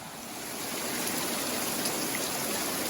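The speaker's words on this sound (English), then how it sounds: "So the waterfall runs right under this log where we're having our snacks." A small waterfall on the Foothills Trail near Virginia Hawkins Falls runs beneath a log, giving a steady, close rushing and splashing of water that holds an even loudness throughout with no talk.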